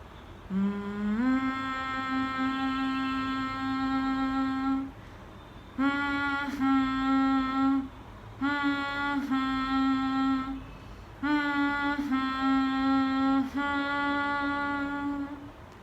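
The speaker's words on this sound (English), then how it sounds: "When you hum deeply from the core of your being, from the navel center, you can actually feel your body vibrate with that sound." Deep, sustained humming from the navel center during Om mantra practice, rich with resonant overtones, sung alone in four long unbroken phrases separated by short breaths.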